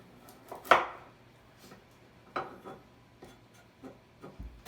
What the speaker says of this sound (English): we're just going to do the carrots the exact same, maybe to about a 1/2 inch, 1/4 inch cut